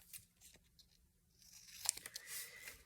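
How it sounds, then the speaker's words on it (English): Material being cut down to size for an even edge: faint, close scraping and snipping, with a few sharper crisp cuts and tearing rustles clustered toward the end, quiet and without talk. "I'm just gonna cut it down so that it's even."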